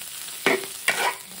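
Packaged waipo cai preserved vegetables being stir-fried in a wok, with two brief scraping stirs over a steady sizzle, close and fairly loud.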